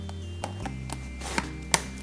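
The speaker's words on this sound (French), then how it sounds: "vous la trouverez dans une boîte en plastique rigide qui s'ouvre de cette façon" A rigid plastic storage box for a Nova 48 is opened, giving a few close, sharp clicks and snaps from its plastic latches and lid over a low background hum.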